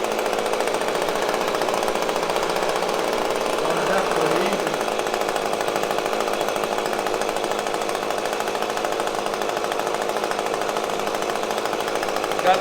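An Echo PB-250LN leaf blower, prone to cutting out and bogging down, runs steadily on a fresh Red Armor fuel mix, giving a continuous, even engine drone throughout.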